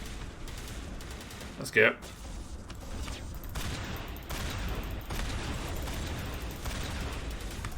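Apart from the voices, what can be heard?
shotgun fire in Mass Effect video game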